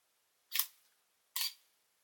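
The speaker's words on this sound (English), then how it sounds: "if I try to take a picture, I want you to watch up here for the shutter speed" Camera shutter firing at a slow 0.8-second speed: a crisp mechanical click opening, then a matching click closing under a second later, close and clear in a quiet room.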